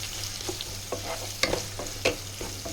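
Spring onion paneer curry ingredients, with curry leaves and finely chopped green chillies, stirred in a pan, the spoon scraping in irregular strokes over a low steady sizzle, a few sharper clacks standing out.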